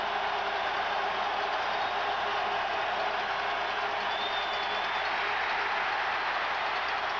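A football stadium crowd on its feet at a 1988 AFC divisional playoff game, Seattle against Cincinnati, a dense unbroken roar of cheering that holds steady and loud throughout.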